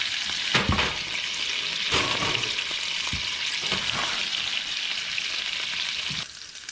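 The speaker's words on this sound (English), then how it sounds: "Add a little bit more and let it just simmer" BBQ ham sauce from a 1947 recipe bubbling in a pan, a loud, steady hiss and sizzle with occasional stirring scrapes, continuous and close, dropping slightly in level near the end.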